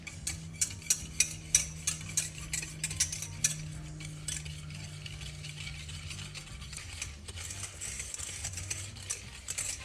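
A spoon or whisk stirs a lemon and egg mixture for an Amalfi tart, with fresh lemon zest grated in, giving a run of quick light clinks and taps against a bowl that fade into quieter scraping, with no talking.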